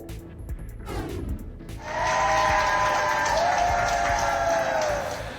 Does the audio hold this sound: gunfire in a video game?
no